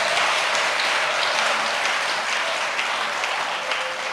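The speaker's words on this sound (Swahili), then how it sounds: "Weka simu chini, pigie Bwana Yesu makofi ya maana." A church congregation claps their hands together in dense, continuous applause that stays loud and steady from start to finish, with no voices standing out.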